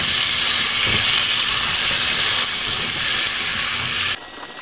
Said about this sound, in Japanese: そして先ほどカットしたリンゴも加えて炒めていきます。